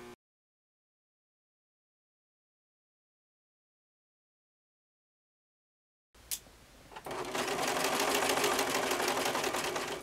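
After several seconds of silence, an overlock machine starts up and stitches fabric for a cosplay muscle suit, giving a close, steady, fast mechanical whir with rapid needle clatter.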